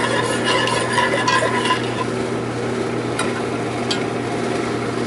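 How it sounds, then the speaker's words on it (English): Cuban pulled pork sauce stirred in a pot, a close scraping and swishing of a spoon through liquid over a steady background hum, with a few light clinks. "Grab our pot. Get this all stirred up."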